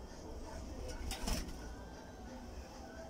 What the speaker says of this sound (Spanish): Así es que las tórtolas recogen sus palos para hacer sus nidos.